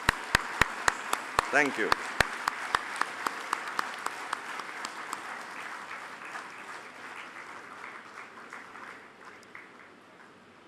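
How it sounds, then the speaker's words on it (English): Audience applause at a convocation ceremony, opening with sharp, loud claps that spread into a sustained, gradually fading round from the hall, with a brief spoken thanks over it. "One big round of applause, please"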